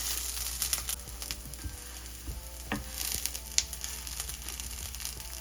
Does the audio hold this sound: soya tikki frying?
yes